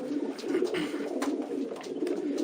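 Close, soft cooing of purebred Stichelbaut-line racing pigeons rolls on in low, throaty, repeated phrases, steady and uninterrupted, with no voices.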